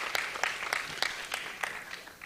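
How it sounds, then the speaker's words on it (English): Audience at a global sustainable food systems conference applauding after a talk ends, a steady patter of many hands clapping with no voices, moderately distant and even throughout. "Round of applause."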